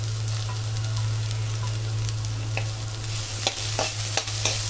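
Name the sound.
onion, carrot and capsicum being sautéed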